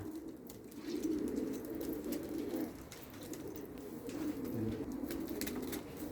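Crested tumbler pigeons cooing in a loft, a steady low rolling coo that swells and fades continuously over a constant background hiss, with no talking.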